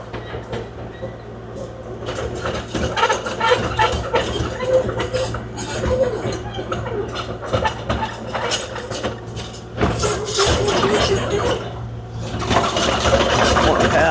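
A Kubota KX040-4 excavator engine runs steadily during backfilling, a close mechanical drone with rattling and clanking bursts layered on top that rise and fall throughout.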